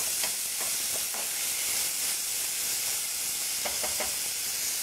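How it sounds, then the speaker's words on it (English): Onions browning in a hot pan for a chickpea curry give a constant loud hissing sizzle throughout, broken by a few soft scraping stirs, with no voices. "I'm going to just brown my onions"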